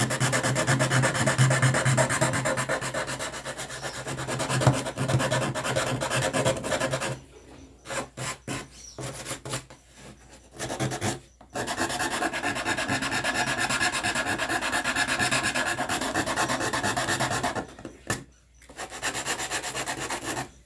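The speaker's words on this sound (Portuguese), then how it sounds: "Dá uma lixadinha aqui agora, né?" A rounded wooden block is rubbed against a homemade sander, producing a loud steady rasping scrape broken by a few short pauses and choppy strokes before resuming.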